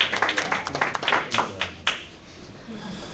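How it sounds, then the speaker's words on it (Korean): A seminar audience at a lecture gives a quick round of scattered hand claps for a correct answer, loudest at the start and thinning out after about two seconds. "정답 박수 한번 주시고요."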